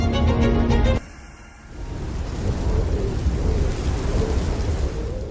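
Heavy rain pours steadily in Mawsynram, Meghalaya, with a loud deep rumble of thunder at the start that cuts off abruptly, followed by a continuous dense downpour hiss with no talk.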